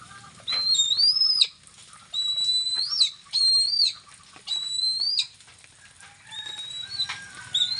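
A pet lawiswis bird gives clear, high whistling chirps in short repeated bursts, with brief gaps between them, close by and with no talking.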